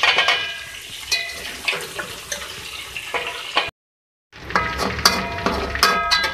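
Chicken pieces frying in oil for a highway-style koyla karahi are lifted out of the pan: sizzling with metal utensil scrapes and clinks, a brief silent break, then more frying and clatter.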